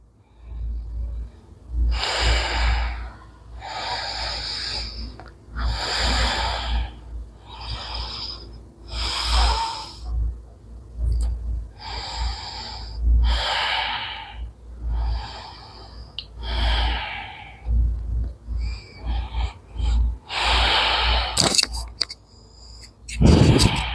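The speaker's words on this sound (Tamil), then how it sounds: "ப்ரீத்திங் எக்ஸசைஸ் பண்ணிக்கோங்க. நல்லா மூச்சு இழுத்து விடுங்க." Deep breathing exercise after a workout: a series of strong, close inhales and exhales in an even rhythm, some with a snorting rasp, a person's voice briefly among them near the end.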